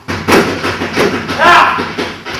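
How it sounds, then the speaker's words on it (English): Someone bangs on a bathroom door in a rapid series of heavy thuds and knocks, loud and close, mixed with voices talking over the pounding. "Stop that banging at once."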